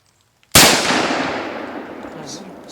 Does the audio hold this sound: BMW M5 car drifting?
no